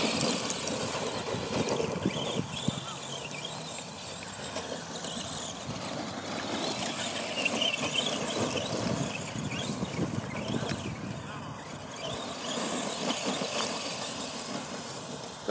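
ARRMA Granite 4x4 and Granite Voltage RC cars run outdoors with a continuous whining electric motor buzz and tyre scrabble, steady and moderately distant throughout.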